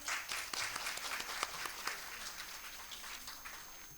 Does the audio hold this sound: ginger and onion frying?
no